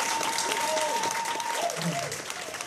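Audience applause after a tango performance, dense steady clapping filling the hall from start to end with a faint tone beneath.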